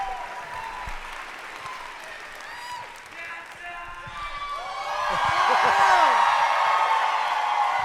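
A studio audience claps and cheers for a guest. Steady applause swells with whoops, growing louder toward the end.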